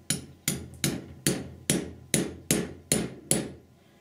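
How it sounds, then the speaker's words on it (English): Nine sharp, evenly spaced hammer strikes land on a nail setter while setting a rivet for jewelry making, each tap ringing briefly and fading before the next, close and fairly quiet with no talking. "So I'll go ahead and start hammering."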